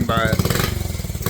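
A Honda Z50 minibike engine idles with a fast, low, throbbing pulse close by, while someone speaks briefly over it.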